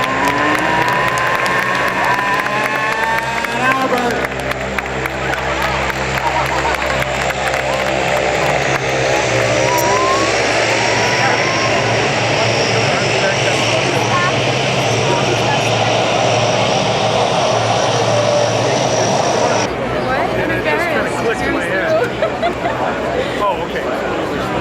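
A Lockheed C-130 propeller transport flies past at an air show, its loud droning engines rising and sweeping in pitch as it passes, with crowd noise, applause and an announcer's voice over the roar.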